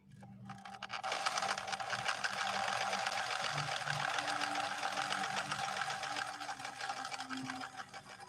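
A 1964 Viking Husqvarna 19E Special sewing machine stitches through two folded layers of fabric, a fast, steady, close mechanical whir that starts up, runs evenly for several seconds and eases off at the end.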